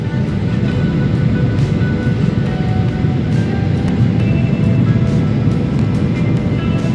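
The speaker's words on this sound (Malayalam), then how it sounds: "അതാ നമ്മളെ ഫ്ലൈറ്റ് ലാൻഡ് ചെയ്തുകൊണ്ടിരിക്കുകയാണ്" Steady, loud low rumble inside an Oman Air cabin landing at Calicut, a continuous roar with no clear breaks.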